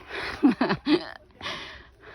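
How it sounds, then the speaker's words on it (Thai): Heavy, labored breathing from someone walking uphill toward a hilltop temple in Mae Tha, Lampang, on a cold, foggy morning; a few close, forceful breaths and gasps in quick succession, with no talking. "อาจจะได้ยินเสียงหายใจ แรงหน่อย"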